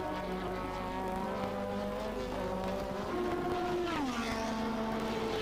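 Formula 1 cars from the 1985 season race wheel to wheel, a steady loud engine whine with strong harmonics that drops in pitch as gears change, continuous throughout.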